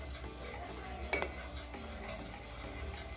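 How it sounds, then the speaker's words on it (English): Raw flaxseed gel being stirred continuously in a pot, a quiet steady scraping and swishing with one sharper clink of the utensil against the pot partway through, no talking. "So you have to stir continuously."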